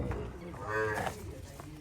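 A Murrah buffalo at a livestock sale lets out a single drawn-out moo, close and fairly loud over a low background rumble.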